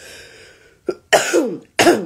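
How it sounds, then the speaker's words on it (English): A single short throat-clearing sound followed by two harsh, close coughs, spaced about half a second apart. "Hear that cough?"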